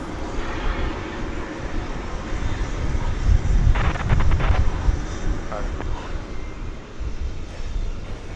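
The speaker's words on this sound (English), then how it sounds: "That is UPS Flight 767. But it's not a 767, it's an MD-11." UPS McDonnell Douglas MD-11 trijet passes at DFW Airport at night, its engines a broad, steady roar that swells in the middle and then eases, with some wind noise around it.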